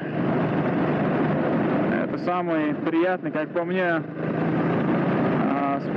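A Honda CB 400 SS motorcycle engine runs at low revs while riding slowly in a higher gear, giving a steady, close rumble beneath someone talking throughout.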